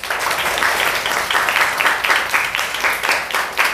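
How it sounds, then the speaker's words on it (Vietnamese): A classroom of Vietnamese sixth-grade literature students claps in encouragement for a classmate, a loud, close burst of many hands beating in a quick, slightly uneven rhythm throughout. "chúng ta cho bạn một tràng vỗ tay khuyến khích nữa nha các em"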